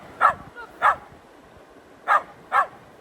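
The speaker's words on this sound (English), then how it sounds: "Sorry about the barking noises." A dog barks four times, in two pairs with a pause between, fairly close and clear over quiet background.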